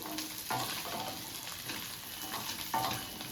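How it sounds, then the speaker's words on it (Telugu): Onions frying on a low flame while being stirred in a pan, a close steady sizzle with two sharper scraping stirs standing out. "స్టవ్ని లో ఫ్లేమ్లో పెట్టుకుని ఉల్లిపాయలు కదుపుతూ వేగనివ్వాలి."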